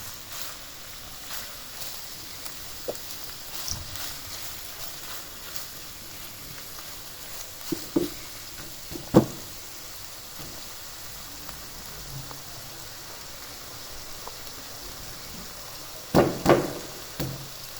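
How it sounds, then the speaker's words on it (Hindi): Chicken keema and onions fry in ghee over high heat, a faint, constant sizzle like light rain, broken by a few sharp clatters of a spoon against the pan. "इसमें इसी ऑयल के अंदर, घी के अंदर तेज़ आंच में ना हम इसको साथ साथ फ्राई करते जाएंगे"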